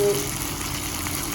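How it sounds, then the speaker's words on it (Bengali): Fish frying in a pan, a steady close hiss and sizzle of oil that carries on evenly throughout, with no voices. "এটা একটু ভাজা ভাজা হোক তার মাছগুলো"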